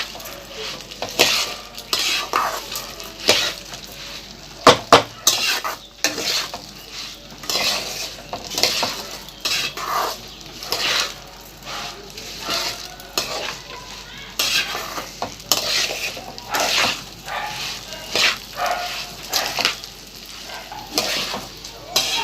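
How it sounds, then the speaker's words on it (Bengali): Rice with turmeric fries in a pan for basanti pulao while a utensil stirs it repeatedly, giving a continuous close sizzle broken by rhythmic scraping and clinks against the pan. "এটা 2 থেকে 3 মিনিট ভেজে নিব চালটাকে ভালোভাবে, যাতে সব মিশে যায় এবং ভাজা হয়ে যায়।"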